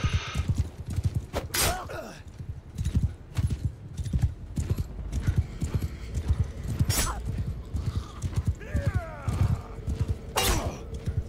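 In a video game, hooves clip-clop in a quick, uneven rhythm close by, with a horse whinnying and a few sharp cracks scattered throughout.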